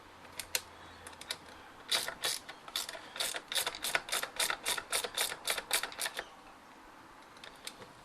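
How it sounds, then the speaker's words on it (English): Ratchet spanner clicking in a quick, even run of about fifteen crisp pawl clicks as it tightens a bug screen fitting on a Gen 3 Mitsubishi Pajero, with a few scattered clicks before and after, close and fairly quiet. "Just snip it down with a ratchet spanner."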